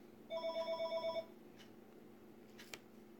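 A telephone rings once in a short burst of warbling electronic trills, fairly close, followed by quiet room tone with a couple of faint clicks.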